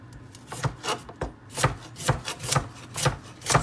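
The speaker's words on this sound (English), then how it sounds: "we're just going to chop them into chunks" A knife chops carrots into chunks on a cutting board, a series of crisp, close thuds in a fairly regular rhythm.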